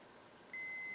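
A JVC A-X9 integrated amplifier under test gives a sudden steady electronic beep that starts partway through and holds clearly to the end.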